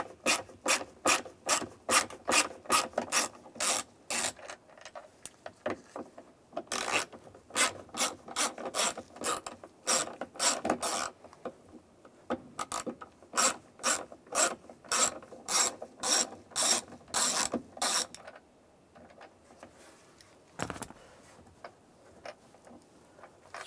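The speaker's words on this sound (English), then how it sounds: "We're going to use a T20 socket." A hand ratchet driving a T20 socket clicks rapidly in repeated bursts while backing out sun visor screws in a 2002-2008 Dodge Ram 1500 cab, close and dry, with short pauses between runs and one isolated click near the end.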